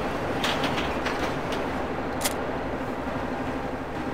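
A train rolls past in Farming Simulator 2015 on the Sandy Bay map, heard as a steady, fairly loud rumble with faint clicking and brief higher rattles.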